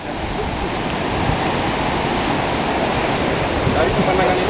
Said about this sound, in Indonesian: air terjun Dua Warna ini kurang lebih 100 meter